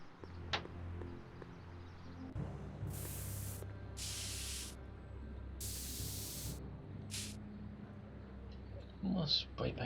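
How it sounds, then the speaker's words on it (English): Several short spray paint can bursts in the Back to the Future video game, four hissing sprays of about a second each, fairly quiet over a low background hum. "More spray paint."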